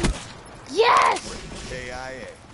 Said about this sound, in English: You heard that thing? This thing fires like a machine gun.